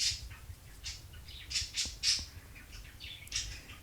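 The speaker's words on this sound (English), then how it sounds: "You can hear my birds chirping in the background." Pet birds squawk and chirp in sharp, irregular bursts in the background of a quiet indoor room, with several calls over a few seconds.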